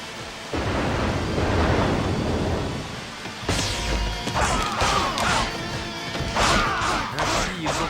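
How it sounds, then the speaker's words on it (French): A summoned storm in Dynasty Warriors 4 unleashes heavy crashing thunder, a sustained rumbling roar followed after a brief dip by repeated sharp booming strikes, loud and close. "Ainsi, ils ont invoqué une tempête."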